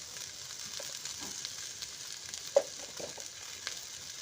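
Chili and spices frying in a pan of oil with potatoes for a koi fish curry give a faint, steady sizzle with a few soft clicks of stirring.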